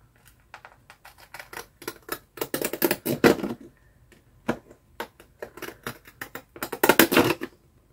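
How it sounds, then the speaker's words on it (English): Irregular crisp snipping and crunching of old Christmas card paper cut with children's decorative scissors, close by, in short bursts with louder clusters of cuts and pauses between. "these little kiddies decorative scissors"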